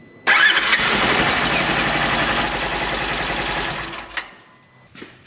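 A Polaris Ranger Northstar utility vehicle engine, freshly serviced with an oil change, cranks and catches abruptly, then runs at a loud, steady idle for about four seconds before shutting off, with a small knock afterward.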